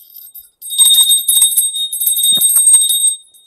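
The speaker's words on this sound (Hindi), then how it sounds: "तो इस घंटी को एंटी क्लॉकवाइज घुमाइए।" A hand bell is rung during a meditation ritual, swung in anticlockwise circles, producing a steady, bright, sustained high metallic ringing over a few seconds, fairly close, with no talk.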